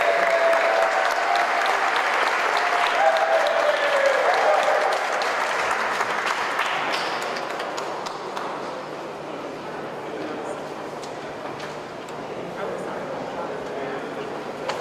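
Sustained audience applause fills a Caribbean Heritage Month event hall, a dense, loud wash of clapping that slowly eases in volume over about fifteen seconds, with some voices in the crowd underneath.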